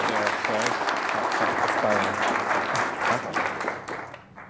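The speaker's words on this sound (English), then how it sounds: "You clap for everyone else, you might as well clap for Rob too" An audience at the FameLab Ireland national final claps for a speaker, dense applause with voices murmuring and talking underneath, fading out near the end.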